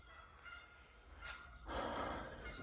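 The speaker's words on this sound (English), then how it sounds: "Geese." A few honks sound at a distance, loudest near the end, over a soft breathy background.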